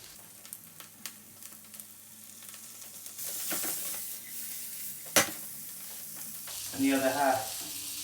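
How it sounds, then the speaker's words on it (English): A small knob of butter sizzles and fizzes steadily in a frying pan alongside pan-fried flat fish, with a light clatter of stirring and a brief spoken voice near the end. "I'm going to go in with a small knob of butter."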